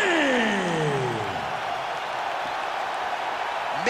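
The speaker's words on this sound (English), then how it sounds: "giving this capacity crowd a whole lot to cheer about" A capacity arena crowd cheers in EA Sports UFC 5 after a unanimous-decision win, a loud, steady roar of massed voices with a descending whistle-like sweep at the start, filling the space without a break.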